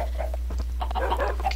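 Chickens clucking in the Minecraft video game: short, choppy clucks in quick succession over a constant low hum, close and fairly loud, with no talking.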